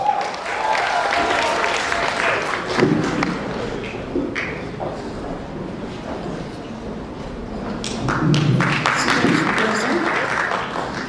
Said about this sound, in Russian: Еще раз аплодисменты Башку!